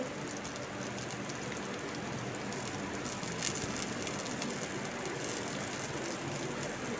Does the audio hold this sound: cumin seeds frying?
yes